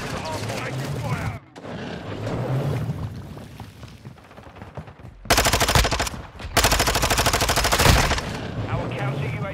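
Rapid automatic gunfire in Call of Duty rattles in dense, loud bursts, the heaviest volleys coming in the second half. Game radio voices talk over the muffled battle noise earlier on.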